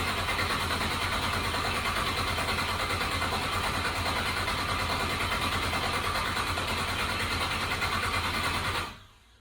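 An engine turns over on its starter motor while fuel fills the filter and lines, a loud sustained mechanical whir that runs unbroken for several seconds, then stops abruptly near the end.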